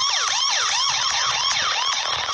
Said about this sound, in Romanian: mai multe sirene